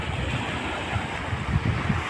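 Ocean waves roll and wash ashore on Maravanthe beach on the Karnataka coast, a low, steady surf roar with wind rumbling over the microphone and a few slightly stronger surges near the end.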